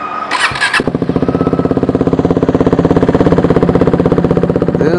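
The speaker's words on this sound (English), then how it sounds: "This is the exhaust note that you get when you're standing next to the bike." A KTM Duke 390 single-cylinder motorcycle starts after a brief squeal, then idles and is revved lightly, its exhaust giving a steady, rapid, loud pulsing thump heard close up, with no talk.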